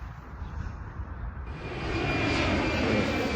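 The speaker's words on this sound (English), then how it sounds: "there's an airplane." A fixed-wing airplane passes overhead, its engine drone steady and then swelling louder and broader toward the end of the short stretch, with no one speaking.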